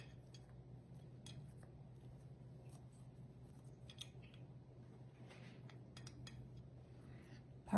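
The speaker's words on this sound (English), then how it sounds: "I have some scissors. So I'm just going to cut this ham" Kitchen scissors snipping through ham, a series of faint, quick crisp cuts at irregular intervals over a low steady hum.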